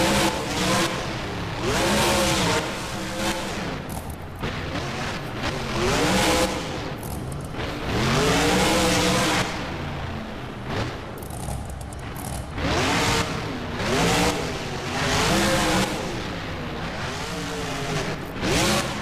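In a BeamNG game, a monster truck's engine revs hard and loud in repeated surges as it races across a stadium freestyle course, with tire scrubbing mixed in and no one talking.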